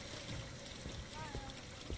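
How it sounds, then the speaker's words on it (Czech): Water runs steadily from a tap inside a house in the video game Mafia 2, a constant rushing hiss with a voice faintly underneath. "Vypni tu vodu, mama, prosím."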